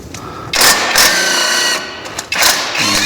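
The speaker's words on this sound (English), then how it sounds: "even with the good impact wrench, it's spinning on this side instead of taking the nut off" Impact wrench working a spinning nut on a Ford Crown Victoria's sway bar end link: rapid, close mechanical rattling bursts that start and stop, with a short pause between two runs.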